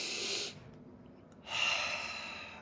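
Two broad, airy breaths of the Flying Bird Breath yoga exercise: a steady inhale, a short pause, then a longer whooshing exhale out through the mouth, close and fairly soft with no talking.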